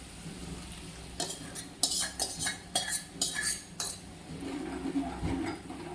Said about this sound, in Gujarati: પછી બધું જ સારી રીતે મિક્સ કરી લઈએ.